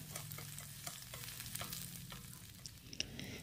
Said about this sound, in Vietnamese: mình sẽ cho phần tỏi băm vào mình phi chung luôn rồi tiếp tục mình sẽ đảo đều lên